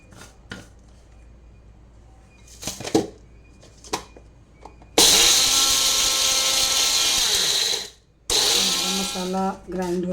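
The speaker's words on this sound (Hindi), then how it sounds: "इसको हम तब तक ग्राइंड कर लेते हैं" A mixer grinder roars to life grinding cooled spices and whirs loudly for a few seconds, pauses briefly, then starts grinding again, with scattered kitchen clatter and talk before it.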